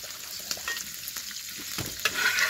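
Chopped spices fry in a pan for chowmein, a close, continuous sizzle broken by uneven scraping and stirring clatters.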